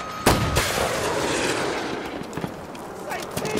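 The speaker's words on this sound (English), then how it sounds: "I'm just firing them in with sniper." Sniper rifle gunfire in a video game: one loud sharp shot near the start, followed by fainter scattered reports and rumbling game effects beneath continuous sound.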